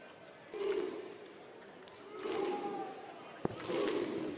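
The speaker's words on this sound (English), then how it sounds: "Viking clap going again, Stuart." Crowd at a darts match final in Melbourne does the Viking clap, three big swells of rhythmic chanting and clapping with a single sharp thud between, heard at a distance.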